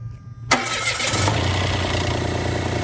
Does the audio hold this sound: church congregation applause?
no